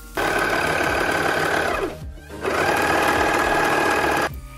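A sewing machine runs loud and close in two long continuous bursts, stitching and finishing the raw edges of fabric for an elastic-waist skirt, with a short pause between them and no talk.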